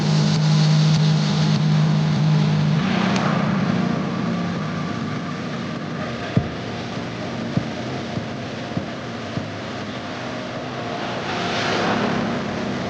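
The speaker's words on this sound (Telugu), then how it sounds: "సో దాన్ని తీయడానికి ఇంకో ట్రాక్టర్ వెళ్తుంది" A tractor stuck in mud is pulled out by a second tractor on a rope, its engine giving a steady, fairly loud low drone throughout, with a few sharp clicks partway through and no talk.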